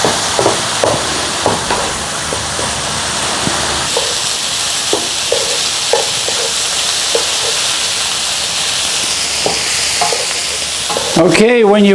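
Mushrooms sweating with salt in a pan give a constant close sizzle and hiss, with occasional spoon taps and stirs and a sharper scrape near the end.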